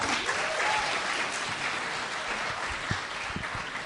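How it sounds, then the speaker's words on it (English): Audience applause following a mayoral candidate's remarks at a San Francisco mayoral forum at City College, a dense, steady wash of clapping from a crowd that holds evenly for several seconds with a few sharper individual claps. "can we keep the clapping to a minimum?"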